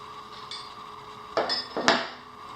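A wrench snugs down a scuba regulator hose fitting, giving a few sharp metallic clinks and scrapes over a quiet background, close and brief with no talking.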